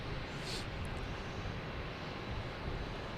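A Spirit Airlines jet arriving at Boston Logan Airport gives a steady, loud engine roar mixed with wind noise, continuous for the whole short stretch with no clear rise or fade.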